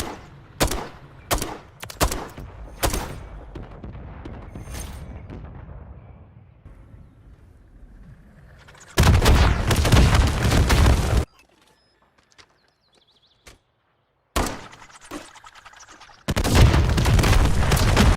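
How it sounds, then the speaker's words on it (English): Gunfire in the Quarry map of Modern Warfare III at the start of a round: several sharp shots early on, then two long loud bursts of sustained firing separated by near silence and a lone bang. "once the round starts, start shooting"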